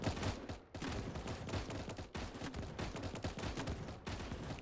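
Roblox tower defense game against zombies, with soldiers firing Scar rifles in dense continuous gunfire, a rapid overlapping barrage with brief gaps that stays loud throughout.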